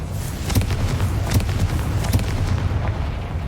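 Confringo fire-spell blasts in Hogwarts Legacy, several punchy booms and bursts in quick succession over a heavy low rumble of battle noise.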